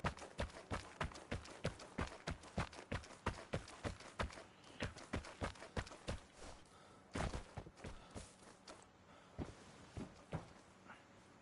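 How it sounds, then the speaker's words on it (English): Footsteps in the video game Vigor: a steady run of crisp, evenly spaced steps, fairly close and clear, slowing slightly and growing sparser toward the end. "I knew I heard footsteps."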